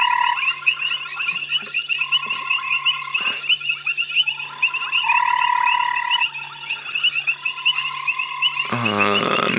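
Frogs croak near water beside a thicket during a sunset safari drive. A dense, steady chorus of overlapping trills and croaks carries from close by, with a sharp louder burst near the end and no voices.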